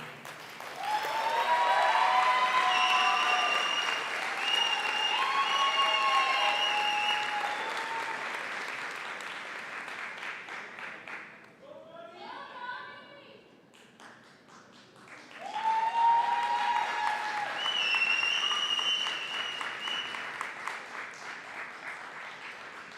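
An audience at a university convocation ceremony applauds in sustained rounds of dense clapping, fading to a brief lull and then swelling again into a second loud wave.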